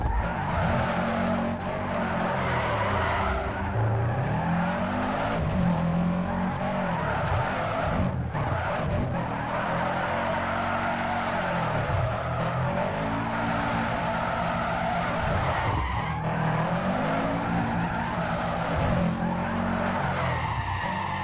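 A Subaru drifts in Need for Speed Underground 2, its tires screeching in long, wavering skids over a steady engine roar that rises and falls with each slide, loud and continuous throughout.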